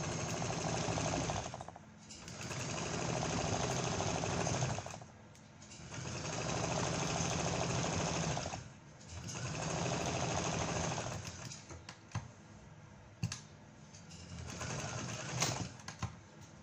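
A sewing machine stitches a keyhole neckline in long steady bursts, humming loudly for a few seconds at a time with brief pauses between runs, then short stop-start stitches toward the end.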